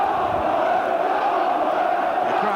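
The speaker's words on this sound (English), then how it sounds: "The crowd here, nearly a full house, most of them right behind Middlesbrough" A near-full football crowd at Ayresome Park, Middlesbrough, keeps up a broad, steady roar of massed voices, distant and continuous across the stands.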